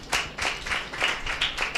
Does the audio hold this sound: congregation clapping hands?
yes